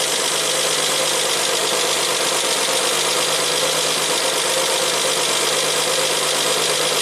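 A 1967 Triumph GT6, parked since 1999 and fed with carburettors full, runs steadily with a dense, broadband engine roar and a faint knocking texture, loud and continuous throughout with no talk.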